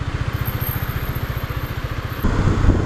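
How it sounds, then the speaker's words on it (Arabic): A KTM Duke 250 motorcycle idling up close with a steady, even single-cylinder thump, then a brief rise in engine revs near the end. "Je vais vous montrer le moteur."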